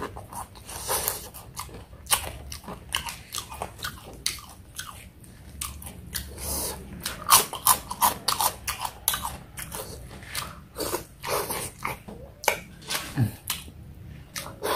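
Close, loud crunching and chewing of crispy flour-coated fried fish, with dense rapid crackling bites and chewing continuing steadily for the whole stretch, with no talking.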